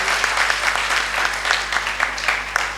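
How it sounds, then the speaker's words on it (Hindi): An audience at a Hindi poetry gathering (kavi sammelan) gives loud, sustained applause: dense, steady clapping from a large crowd that fills the whole stretch, with no talk over it. "एक बार जोरदार तालियां बजा दीजिए दादा के लिए।"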